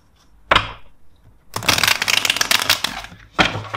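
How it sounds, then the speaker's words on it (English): Cards are riffled and shuffled: a sharp snap, a pause, then a long rapid flutter of cards, followed by another snap. "Let's first shuffle three times the cards."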